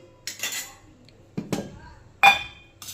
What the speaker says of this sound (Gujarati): પછી સહેજ તેને ગરમ કરી અને હલાવી દઈશું.